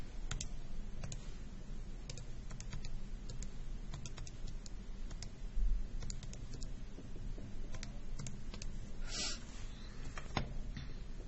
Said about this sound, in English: Okay, so I'm going to type that in. So again, we go with sine inverse